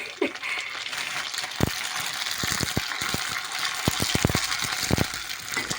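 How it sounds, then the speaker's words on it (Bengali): Fuchka puris frying in very hot oil at home, a steady broadband sizzle with scattered sharp crackles and pops throughout. "ফুচকাগুলো কিন্তু খুব সুন্দর ভাজা হয় জানো তো।"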